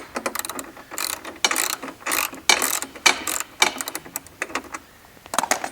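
A ratchet wrench backs out a bolt while assembling a DynaRoller, giving rapid, close bursts of sharp clicking with brief pauses between strokes, loud and unaccompanied by talk.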